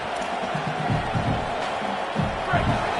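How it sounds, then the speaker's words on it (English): A college football stadium crowd roars in a steady, dense wash of noise that never lets up, with a voice talking over it. "The roar of the crowd trying to fuel this defense to keep them pinned in their own end."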